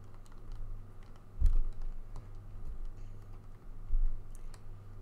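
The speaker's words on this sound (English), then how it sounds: "I have to keep my keyboard on W just to make it go." Computer keyboard keys pressed in quick, uneven bursts of close clicks and taps during Minecraft play, with a few louder thumps, no talking.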